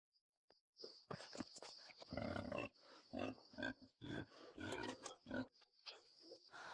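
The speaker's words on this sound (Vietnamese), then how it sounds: "Lợn nái kìa, sắp đẻ rồi" A sow in labour grunts and squeals loudly in close, repeated bursts, a run of strained calls with short pauses between them.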